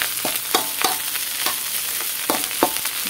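Egg fried rice being stirred and fried in a pan, with a steady background sizzle broken by about five sharp scraping strokes of a spatula at uneven intervals, close and fairly loud, no talking.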